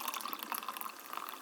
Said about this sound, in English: you open up this unsweet orange vanilla carbonated water and you pour it into